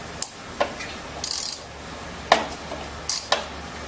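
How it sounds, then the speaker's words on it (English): A 3/8-inch drive ratchet with a 7/16 socket loosens the four bolts on a pump cover, giving several short, close bursts of ratchet clicking separated by brief pauses, with no talking. "take your 3/8 drive ratchet with a 7/16 socket and loosen up"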